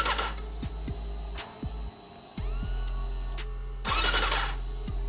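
A Honda CBR250RR SP or Kawasaki ZX-25R sport motorcycle starts with a short starter crank. The engine then catches into a steady idle and blips once briefly. The bike is close and there is no talk.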